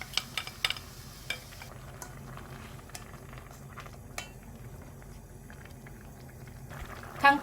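Tofu duruchigi stew with sliced tofu bubbling in a pot over high to medium heat, a steady close simmering burble with scattered pops and light clinks of utensils against the pot.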